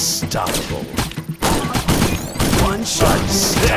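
Sniper rifle shots in the sniper arena video game ring out in a rapid string of sharp, loud cracks and thuds, several within a few seconds, close and punchy amid busy game effects.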